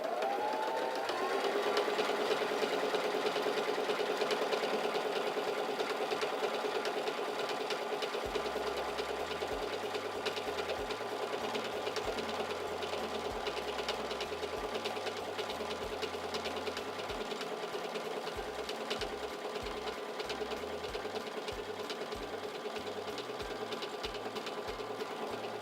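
A Singer 3337 sewing machine runs continuously for a long stretch, its needle chattering rapidly and evenly through fabric, with a steady whirring motor, close and moderately loud, with no talking.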